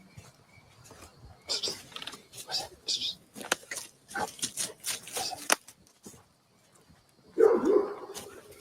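Onyx, a dog out in the yard on an evening walk, gives a string of sharp barks and yips mixed with a voice, then falls quiet before one last loud bark.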